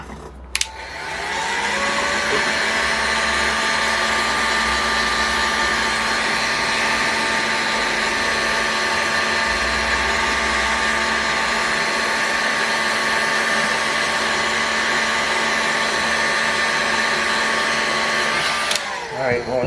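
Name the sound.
torch heating a bearing for removal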